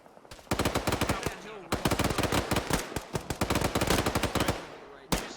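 Heavy gunfire in a military video game as a tank fires at soldiers, with dense bursts of loud rapid shots broken by short gaps, close and dominant.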